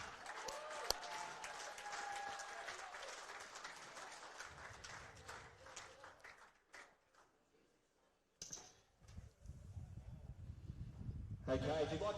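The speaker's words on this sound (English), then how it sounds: "have a big round of applause for Team China" An audience at a lawn bowls showcase match in Brisbane applauds Team China, the dense clapping thinning out, falling nearly silent for a moment, then rising again louder.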